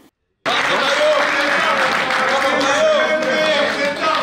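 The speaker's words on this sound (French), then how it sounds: "C'est par des applaudissements frénétiques que le conseil communal a accueilli le gouverneur intérimaire Martin Kazembe Choula à son entrée dans la salle de banquet du gouvernorat" Communal council members break into sustained, frenzied applause greeting the interim governor at his entrance to the governorate banquet hall, loud dense clapping starting abruptly and continuing, with a voice talking over it.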